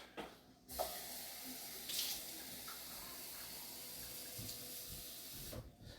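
A tap runs steadily for about five seconds as water is drawn for a drink, a soft continuous hiss that starts and stops abruptly and is heard alone, without voices.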